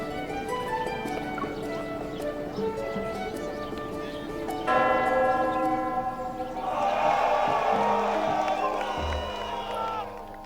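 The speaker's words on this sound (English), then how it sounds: "One by one, couples ring the ceremonial bell as they make their vows, and the crowd erupts with cheers and applause every time." In a video game wedding ceremony, a ceremonial bell rings with sustained clear tones over game music, and then a crowd breaks into loud cheering and applause.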